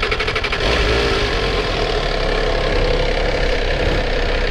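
A 2022 MV Agusta F3 three-cylinder motorcycle engine idles steadily nearby, a low, even throbbing hum after a brief rough start, with no talking over it.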